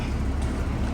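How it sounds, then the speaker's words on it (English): Engine of a front-end-damaged Porsche Boxster convertible idling, a steady low rumbling drone heard close and fairly loud for a brief moment with no other sounds. "That motor sound don't sound good to me"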